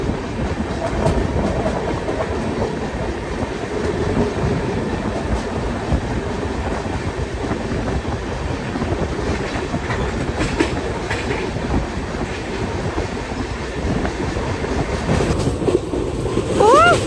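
A Mumbai–Delhi YUVA AC Superfast Express runs at high speed, a loud, steady rumble of wheels with rhythmic clickety-clack over rail joints and faint squeals near the end.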